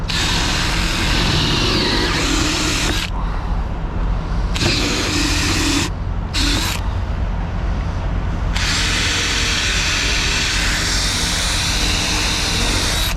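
A loud, steady power drill with a 1/2-inch bit whirs continuously, briefly cutting out and restarting a few times as it bores a bolt hole close by while a trailer mud flap is installed.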